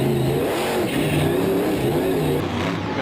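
A freestyle monster truck's engine revs hard, stuck in first gear, as a loud continuous roar with a wavering pitch that rises and falls under steady throttle.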